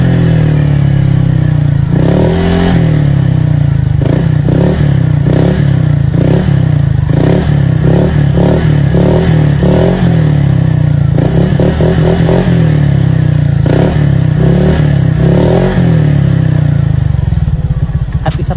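Honda Click scooter fitted with a TRC power pipe exhaust, loud and close, revving repeatedly in rapid bursts with a throaty rasp, rising and falling in pitch across the whole stretch.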